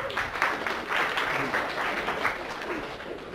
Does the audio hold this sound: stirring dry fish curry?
no